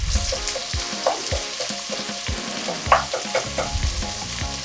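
Onions frying in oil in a pan as the base of a coconut black bean stew, a close crackling sizzle broken by repeated spatula scrapes and knocks in an uneven rhythm, no speech.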